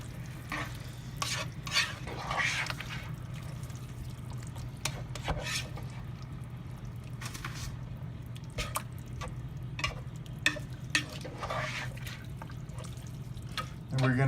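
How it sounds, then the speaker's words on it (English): A ground-beef and sweet potato casserole mixture stirred in a pot, with soft repeated scraping and rubbing strokes over a low sizzle, and brief voice sounds nearby. "now we are going to mix this all together."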